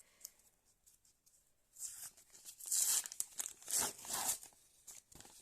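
A crinkly paper blind packet of Among Us collectibles being opened and handled up close, with bursts of rustling and tearing, no talking.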